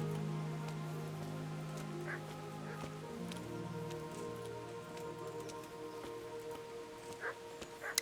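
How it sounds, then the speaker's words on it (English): Rain falls steadily in the medieval town setting of the Kingdom Come: Deliverance video game, a soft continuous patter under a low ambient drone, with a few faint sharper drops near the end. "Well, it certainly rains a lot here."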